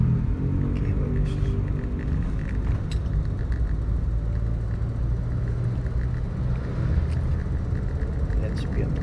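Manual car accelerating during a driving lesson in light drizzle, a steady low engine rumble and road noise lasting throughout, with occasional faint clicks and an instructor talking over it.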